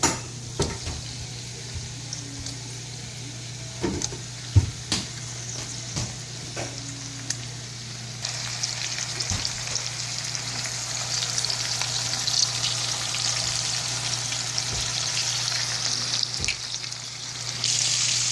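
Shrimp frying in garlic oil in a pan over medium-high heat, with a steady sizzle that grows louder and denser midway, plus scattered clicks and scrapes of utensils against the pan, no talking.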